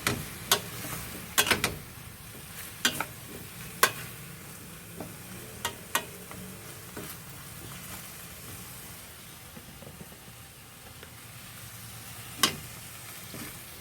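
Mixed vegetables with squash fry quietly in a pan, a faint low sizzle broken by sharp, irregular clacks and scrapes of a spatula stirring. The sound is close but soft, with long stretches of just gentle frying.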